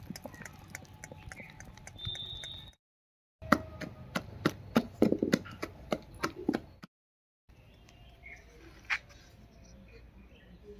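Lentil batter for dal bori is beaten by hand with a little water, a fairly faint run of quick, rhythmic slapping taps broken by short pauses.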